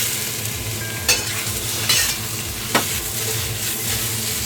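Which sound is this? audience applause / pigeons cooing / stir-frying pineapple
stir-frying pineapple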